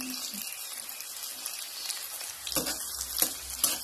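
Onions frying slowly in a pan for chicken kosha, a soft steady sizzle with brief stirring scrapes and clinks toward the end, close and moderately quiet.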